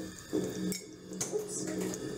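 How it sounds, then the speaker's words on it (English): Makeup brushes are rinsed under a running tap, a close splashing stream of water that shifts as the small brushes pass through it, with a couple of brief clicks and a faint voice underneath. "you're just going to want to rinse each one of them"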